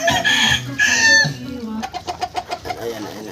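Chickens cluck and a rooster crows on a farm, a loud close crow followed by a run of rhythmic clucks, with speech briefly mixed in.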